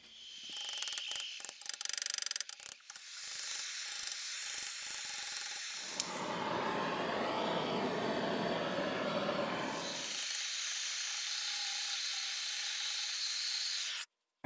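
Repeated ratchet clicks from a hand wrench working a broken bolt out of the grille mount on a 1950s Caterpillar, close and steady, with bursts of busy mechanical rasping throughout and a heavier grinding stretch in the middle.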